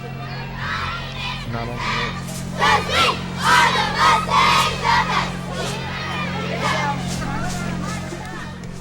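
Girls cheer and chant in a crowd for the Gamber Smallwood Mustangs youth team at Westminster's Fallfest parade, rising in rhythmic shouted bursts over a steady low hum and general crowd noise, with a voice talking nearby.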